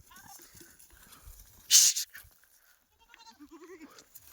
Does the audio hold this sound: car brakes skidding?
no